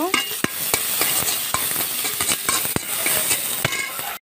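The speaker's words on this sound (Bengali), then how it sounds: "এখন আমি পেঁয়াজগুলি ভেজে নেব।" Chopped onions fry in oil in a kadai for a Bangladeshi rui fish curry and are stirred with a spatula. Repeated scraping strokes and clinks land over a continuous close, bright sizzle, with no talking.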